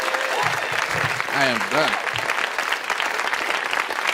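Comedy-club audience applauds a comedian at the end of his set, a dense, steady wash of clapping throughout while someone speaks briefly over it near the start.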